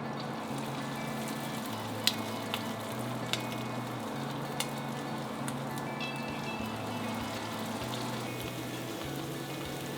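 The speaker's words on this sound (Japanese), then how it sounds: "お肉が半分もしくは3分の1浸かるぐらいの油を引いたら180度ぐらいのね温度で揚げていきます。" Chicken pieces for yu lin chi shallow-fry in oil at about 180°C, reaching halfway up the meat, with a steady dense sizzle and crackle and occasional sharp pops throughout, no talking.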